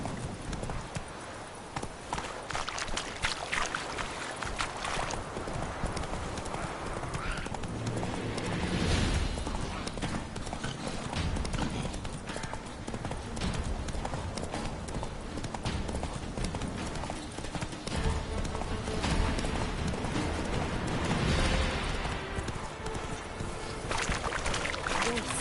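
Hooves of Roach, Geralt's horse in the video game The Witcher 3: Wild Hunt, clip-clop at a steady trot through nearly half a minute, mixed with ambient game sound and occasional faint voices.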